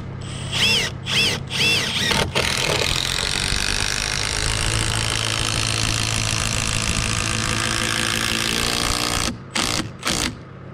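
A power driver sinks a six-inch SDS structural screw into a 4x8 fascia board: short whirring bursts at first, then one long continuous loud grinding drive, ending with a couple of brief bursts close by.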